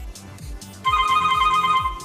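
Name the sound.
Nubia Alpha smartwatch ringing with an incoming call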